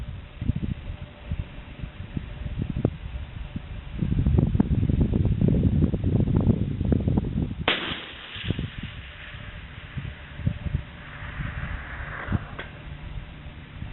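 A single sharp rifle shot firing a Hornady ELD M 155gr bullet at a long-range target, a sudden crack at mid-clip amid strong gusting wind noise and rustling, with no talk.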